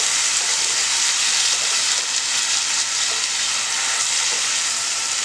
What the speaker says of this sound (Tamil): இதை வந்து நம்ம வதக்கி வச்சிடலாம்.